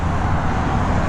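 A car passes on a wet street, its steady broadband tire hiss and low road rumble holding loud and close for about a second with no voices.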